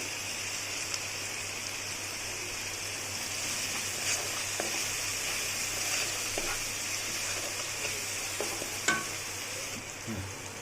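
Marinated chicken is stir-fried for a Bengali chicken kosha as salt and ground spice powders go in, making a steady, fairly faint sizzle with intermittent scraping and stirring taps.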